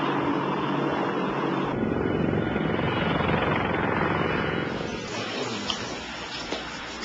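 An Apache attack helicopter flies past with a loud, steady rotor roar that eases off slightly toward the end, heard alone without talking.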